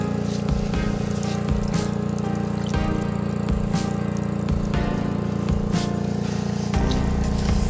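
A generator runs beside the Barakar River for electro fishing, giving a steady, loud mechanical drone with faint intermittent clicks and knocks and no voices over it.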